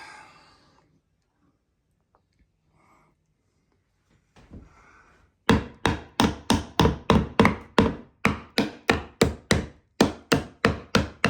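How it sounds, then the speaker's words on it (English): Quiet rustling and a few knocks give way to a fast, even series of loud, sharp blows, about twenty strikes close by, while a bathroom door frame is torn out. "Tearing out the door."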